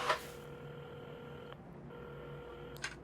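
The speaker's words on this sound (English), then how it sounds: "at the counter, Carmen had started dialing the phone" A telephone being dialed in the video game Assemble with Care: steady electronic tones held for stretches, broken by a brief gap and a short beep near the end, faint and alone.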